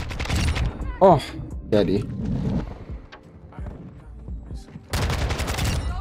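Rapid gunfire from a new weapon in Modern Warfare 2, sharp loud bursts opening the passage and returning near the end, with a player talking and exclaiming between volleys.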